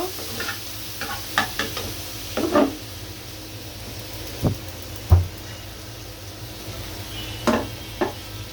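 Chopped onion frying in hot oil until light brown, a soft continuous sizzle broken by a handful of sharp scrapes and knocks from stirring in the pan.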